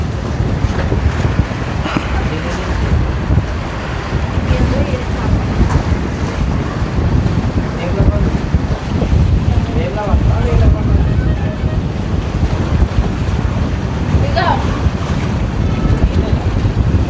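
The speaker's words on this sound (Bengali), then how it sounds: "হাওয়া প্রচুর দিচ্ছে, হাওয়া প্রচুর দিচ্ছে।" Strong wind buffeting the microphone outdoors near water at Srisailam, a constant heavy low roar and rumble lasting throughout, with a voice speaking faintly beneath it.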